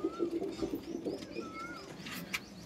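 A medium-sized, high-flying pigeon coos close by in a soft, low rolling burst, with faint chirps and rustling after it.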